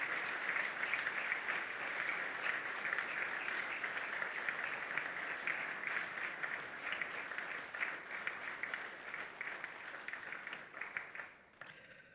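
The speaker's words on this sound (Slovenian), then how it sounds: "Zdaj pa je čas za tisti aplavz." Sustained applause from a large audience at a Slovenian firefighting anniversary ceremony, a steady dense wash of clapping for about eleven seconds that thins toward the end.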